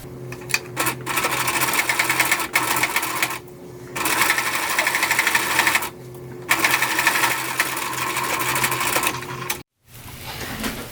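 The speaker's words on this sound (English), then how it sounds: "we are going to sew this seam with a 3/8 inch seam allowance and either a zigzag stitch or a serger" A sewing machine runs close and loud, stitching a fabric seam on a child's ear warmer with a zigzag stitch at 3/8 inch allowance, in steady bursts with two short pauses before it stops near the end.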